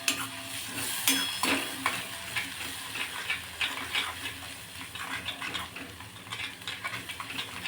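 Soybean chunks are sautéed in oil with a spoonful of curd over medium heat: a soft, steady sizzle with repeated scraping stirs of a spoon against the pan. Quiet and close, no talking.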